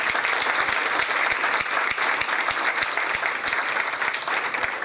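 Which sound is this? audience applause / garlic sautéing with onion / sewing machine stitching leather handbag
audience applause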